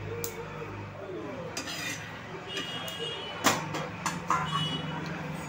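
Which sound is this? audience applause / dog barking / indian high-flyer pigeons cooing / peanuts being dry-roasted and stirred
peanuts being dry-roasted and stirred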